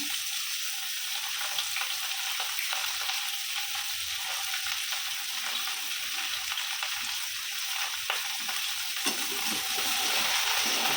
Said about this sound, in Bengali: এই যে করলা ভাজা বসিয়ে দিয়েছি